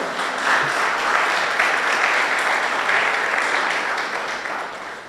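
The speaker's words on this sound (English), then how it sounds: "A round of applause for him." A steady round of applause fills a ceremony hall for a guest at a school science and technology innovation challenge closing event, sustained clapping from a seated crowd holding level for several seconds.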